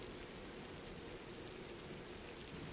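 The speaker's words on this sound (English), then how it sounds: "28th November pouring rain again." Pouring rain makes a constant, even wash of hiss and patter, faint and unbroken from start to finish, with no other sounds standing out.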